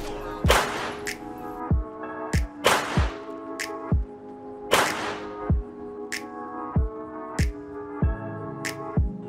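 Sharp electric snapping and crackling bursts from a remote restraint device in the FiveM game, repeating irregularly about every second with ringing tonal tails, loud and close with no talk.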